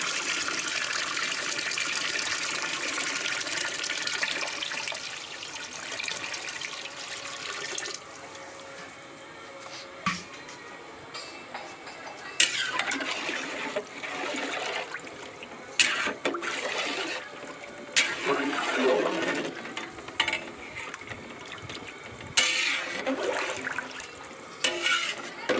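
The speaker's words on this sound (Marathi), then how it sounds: "आता आपण पाणी टाकतोय" Water pours into a large pot of chicken being cooked hotel style, a loud gushing splash that eases into lighter trickling and intermittent clatter and stirring.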